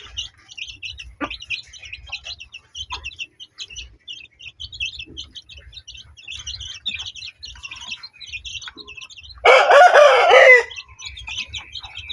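Chickens feed on corn and mixed feed in a pen, with scattered clucks and chirps throughout and one loud, close crow-like call partway through over a quiet, low background.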